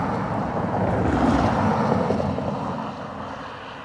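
Aer Lingus aircraft EI-XLR arriving at Dublin Airport from Munich, a broad distant jet roar that holds steady, then fades slightly toward the end, with some wind noise and no voices.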